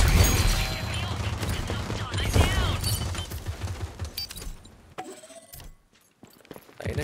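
Pistol gunfire in the online shooter Rogue Company, with sharp shots and mechanical clicks in a busy stretch of game audio that drops to quieter sparse sounds partway through.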